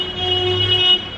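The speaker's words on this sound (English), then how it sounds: "honk honk." A car horn sounds outside an airport, one sustained toot of about a second, fairly loud and close, with no other voices.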